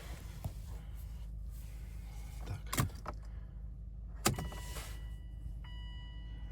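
A key goes into the ignition of a Volvo C30 2-litre diesel car, with close metallic jangles and clicks in two sharp bursts against a low steady hum.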